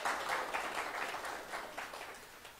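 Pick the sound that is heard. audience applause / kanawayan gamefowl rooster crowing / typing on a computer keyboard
audience applause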